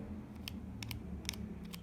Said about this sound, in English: You're kind of like sliding the scissors through the lashes.